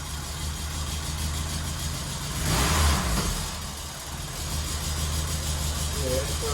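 A barn-find Mk1 VW Golf GTI engine idles slightly unevenly, then swells in a brief rev before settling back to a low, rumbling idle, heard at moderate distance with faint background noise.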